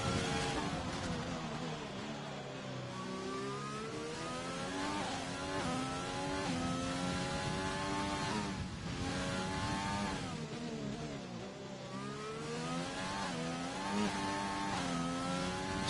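A race car engine on a hot lap of Zandvoort in a racing video game, revving steadily with rising and falling pitch through gear changes, loud and continuous with no voices over it.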